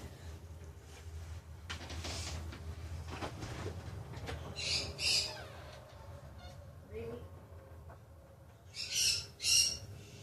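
Pet birds let out shrill, piercing screeches in a few bursts over a quiet indoor background, with faint movement noises in between.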